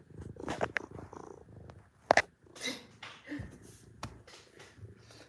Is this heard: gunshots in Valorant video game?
no